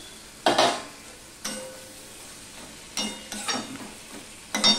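A spice paste with flat beans sautés in a pan, a low sizzle broken by several loud scraping stirs of a spatula at irregular intervals, close and with no speech.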